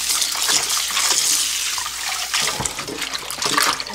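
Salted young radish (yeolmu) being rinsed by hand in water for kimchi, a steady close splashing and running-water wash with sloshing surges, no talk.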